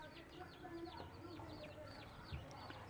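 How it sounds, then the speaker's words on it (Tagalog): Chickens on a rural property cluck and chirp in repeated short calls amid outdoor background noise, with a brief low thump near the end. "Uy, kagahod sa manok."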